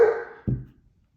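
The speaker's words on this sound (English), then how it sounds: "You might hear a German Shepherd barking in the background." A single German Shepherd bark rings out briefly and fades quickly, fairly close and moderately loud, with no talking.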